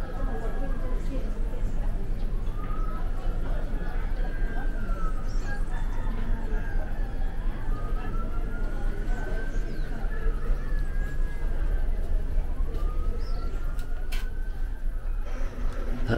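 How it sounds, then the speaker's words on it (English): A wailing siren rises and falls repeatedly in the distance over a steady, noisy outdoor background in Antigua, with chickens, faint voices and activity around. "All you hear is sirens and chickens."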